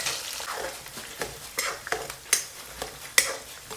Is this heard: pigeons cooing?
no